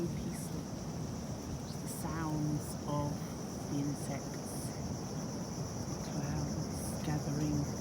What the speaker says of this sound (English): Just the sounds of the insects